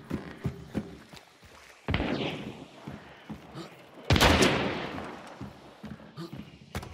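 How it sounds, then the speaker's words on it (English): Gunfire in the video game Hunt: Showdown, with a few sharp distant-sounding shots and two heavier booming blasts spaced several seconds apart, amid quieter in-game ambience. "Where is he shooting from?"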